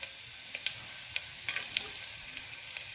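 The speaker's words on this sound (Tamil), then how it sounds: "இதெல்லாம் போட்டு கொஞ்சம் ஃப்ரை பண்ணிக்கணும்" Whole spices (bay leaf, cinnamon, cloves, cardamom, star anise) and cashews frying in a pan for spinach vegetable pulao, a steady close sizzle broken by occasional sharp stirring clicks.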